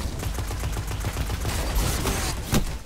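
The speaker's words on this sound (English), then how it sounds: "High impact auto rifle with high caliber rounds" High-impact auto rifle firing high caliber rounds in Destiny, a loud, rapid, continuous stream of evenly spaced shots for the whole stretch, close and dense.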